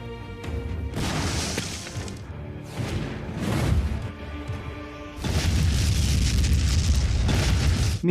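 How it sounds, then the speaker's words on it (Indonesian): A thrown grenade blows up German reserve fuel in a war film, setting off several heavy booming blasts and crashing debris, then a sustained loud roar of burning and rumble. "Sersan Greg langsung melemparkan granatnya"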